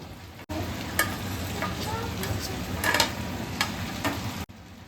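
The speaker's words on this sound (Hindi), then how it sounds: "तो यहाँ पे सारा कुछ अब धीरे धीरे फ्राई होगा" Vegetables frying slowly in a pan give a steady, dense sizzle close by, with a few light clicks and stirring taps scattered through it, and no voices.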